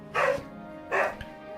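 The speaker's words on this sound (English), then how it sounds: "If you heard the dog barking, it's our pizza getting delivered." A dog barking indoors, two distinct close woofs about a second apart, moderately loud with no talk over them.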